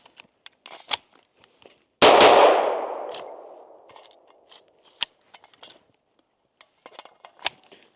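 A single loud gunshot from a 9mm AR-style rifle with a bufferless lower rings out and decays over about a second, surrounded by small clicks and handling noises.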